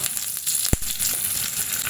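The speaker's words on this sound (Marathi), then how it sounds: "आपलं तेल चांगलं तापलं आहे यामध्ये घालायचं आहे एक टीस्पून मोहरी एक टेबलस्पून उडदाची डाळ आठ ते दहा कढीपत्त्याची पानं" Mustard seeds, urad dal and curry leaves sizzle in hot oil, a steady close crackling hiss with one sharp pop partway through and no voices.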